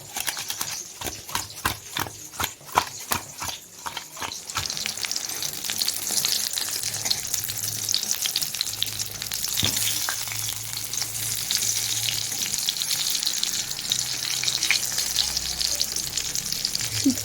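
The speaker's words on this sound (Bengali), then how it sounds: "একটা আলু দিয়ে দিই আর বেগুন ভাজা।" Potato and brinjal frying in a pan, a steady close sizzle that runs throughout, opened by several sharp utensil knocks in the first few seconds.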